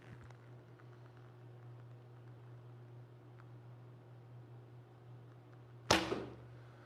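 An arrow is loosed from a 25-pound traditional bow with one sharp, close snap and whoosh near the end, after several seconds of quiet outdoor hum.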